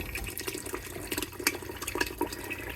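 Juice poured into cooked tamale meat, a soft uneven splashing and trickling with small wet clatters, close and fairly quiet.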